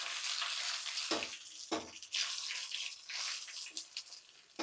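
Mustard seeds fry in hot oil for tempering a Kerala-style buttermilk curry, giving a steady bright sizzle with louder bursts of spattering and stirring. No one speaks.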